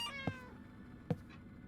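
A cat meows once in a short, falling tone, then makes two brief thumping bumps, close by and fairly quiet, with no talking.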